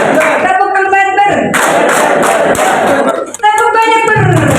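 A seminar audience claps in unison during a counted clapping game, a burst of loud group clapping that rises between stretches of a voice, with crowd noise under it.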